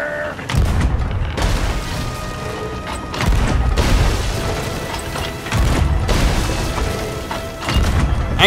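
Ship cannons firing in the Sea of Thieves game: three loud, booming blasts about two and a half seconds apart, each with a long rumbling tail and mechanical clatter.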